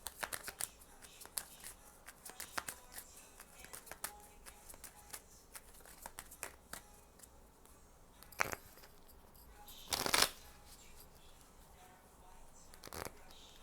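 Kipper cards are handled and shuffled close by in quick, irregular papery flicks and taps, with a louder riffling burst near the end, and no voices.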